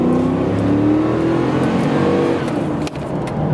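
A 1997 Oldsmobile Aurora with the 4.0-litre Northstar V8, about 68,000 miles, pulls away in town driving, its engine rising steadily in pitch under a loud cabin drone before easing off briefly near the end.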